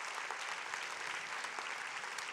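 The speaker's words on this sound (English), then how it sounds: "give Forever a huge round of applause" Audience at a company rally applauding, a dense, steady wash of clapping from many hands that holds evenly throughout.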